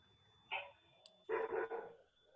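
A dog barks a few times during an online class at home, one short bark followed by a louder double bark, faint and somewhat distant, with no speech.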